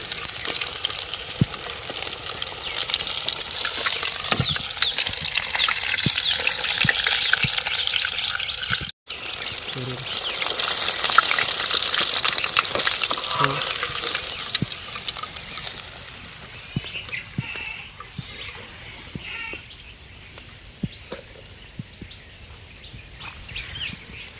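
A whole quail fries and is stirred in a pan for a village-style roast, giving a loud, dense, steady sizzling hiss that softens slightly toward the end, with faint stirring ticks.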